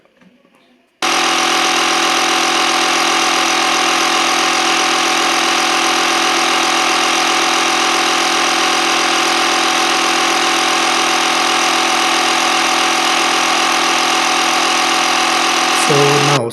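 A Bergmann Striker digital tyre inflator switches on after a second and runs steadily as a loud, dense buzzing drone with a strong hum, close and unbroken, changing pitch just before the end.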